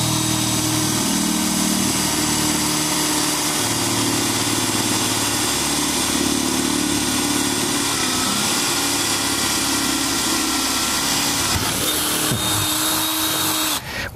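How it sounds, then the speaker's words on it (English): A power drill with an aging bit whines loudly and continuously for a long stretch while drilling into plywood, then its pitch shifts briefly near the end before cutting off. "When you're drilling on plywood"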